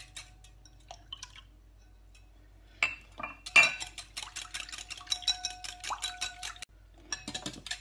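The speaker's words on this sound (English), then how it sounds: "I'm going to whisk this together until everything is mixed well, the eggs and" Eggs and milk whisked together in a bowl for French crêpe batter: a quick, rhythmic clinking of the whisk against the bowl starts after a quiet opening and continues in close, steady bursts.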